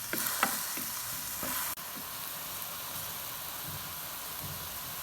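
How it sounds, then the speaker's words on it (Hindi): Lentils for daal mash simmer in a wok over medium flame, giving a steady close hiss and bubbling sizzle with a few soft stirring knocks early on. "ये देखें, ये बॉयल आ रहा है।"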